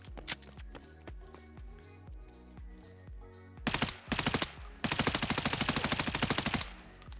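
M4 rifle fire in the game Escape From Tarkov: several spaced single shots with reverb, then loud sustained full-auto bursts, the last running about two seconds, sharp and close.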